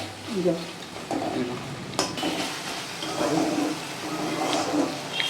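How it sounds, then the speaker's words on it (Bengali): Spices frying in oil for a Bengali catla fish kalia, a continuous sizzle with stirring scrapes and clatter of utensils, while people talk nearby. "ভাজা ভালো করেছে, ভাজা ভালো করে তেল ছাড়তে শুরু করেছে।"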